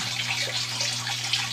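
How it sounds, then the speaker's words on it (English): Water flows steadily from the pump of an aquaponics system, a continuous rushing and splashing hiss layered over a low steady motor hum, close and unbroken. "so the pump keeps running."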